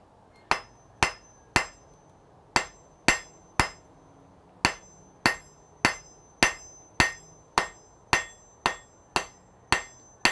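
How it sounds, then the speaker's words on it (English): A blacksmith hammers hot metal over the edge of an anvil to draw it out, about seventeen sharp ringing blows in a steady rhythm with short pauses, loud and close, with no talking. "Now what I'm doing is actually using the edge of the anvil as a fuller. And you can see it draws out the metal nice."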